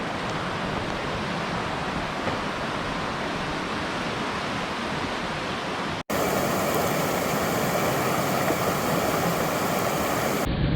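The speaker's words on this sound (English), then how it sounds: "Check it out, waterfall. Waterfall action." A waterfall at Lena Lake in Olympic National Park roars as a dense, steady broadband rush, close and loud, with a brief cut midway before it resumes slightly louder.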